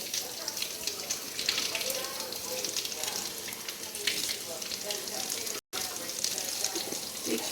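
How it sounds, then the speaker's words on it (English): Vegetables washed under a running kitchen tap, a steady close hiss of flowing water with faint splashing, unbroken except for one tiny gap. "So we want to give our vegetables a nice washing off."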